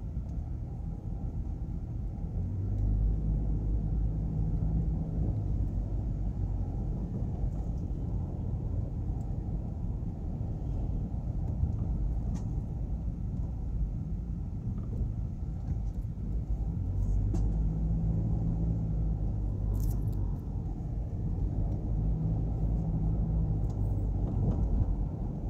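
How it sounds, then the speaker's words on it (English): Trucks stopped outside in Porus, Jamaica, after a hurricane, giving a steady low engine rumble that holds for the whole stretch, with no talking. "Alright, some trucks have stopped out here."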